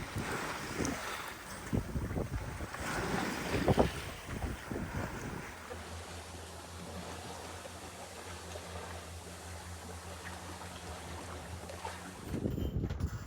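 A 9 m small sailboat heads upwind in light air, with steady wind rush and soft water movement against the hull, and a low steady drone through the middle of the stretch, with no talking.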